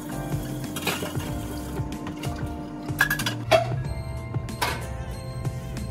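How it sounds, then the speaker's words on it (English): A cooking pan being cleaned after making ramen sauce, with light metallic clinks and scraping of utensils against it, scattered sharp taps over a low steady background hum, close and moderately quiet. "Go ahead, clean your pan off."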